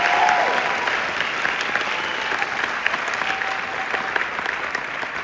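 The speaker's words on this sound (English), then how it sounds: "Can we have another round of applause for them?" Audience applause following a boys choir performance at an evening city music concert, a steady dense wash of clapping throughout, fairly close and loud with no speech over it.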